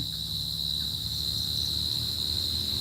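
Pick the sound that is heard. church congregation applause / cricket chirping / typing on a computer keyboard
cricket chirping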